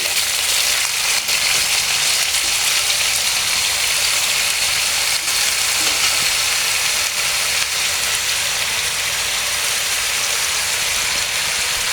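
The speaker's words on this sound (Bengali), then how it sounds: "আমি রসুন পেঁয়াজ আর কাঁচামরিচটা ইয়া করে নিচ্ছি হালকা করে ভেজে নিচ্ছি" A loud, continuous hiss of garlic, onion and green chillies frying in a pan, steady and close throughout with no talking.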